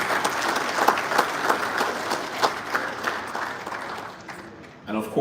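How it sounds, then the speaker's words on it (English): Audience applause at the opening of a tenth-edition energy conference, a sustained wash of clapping from a large crowd that fades near the end, with a voice over a loudspeaker coming in as it dies down. "Please, can we give another round of applause to PETAN"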